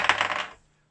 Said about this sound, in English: Do you know why I like dice? Because when you throw them, they make a good noise.